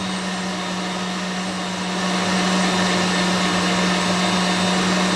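Electric mixer whipping meringue with cream of tartar and sugar, a steady loud motor whine with a constant hum that grows slightly louder partway through and continues without pause.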